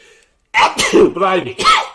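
A single loud, close sneeze bursts out after a brief silence, followed by a short vocal sound.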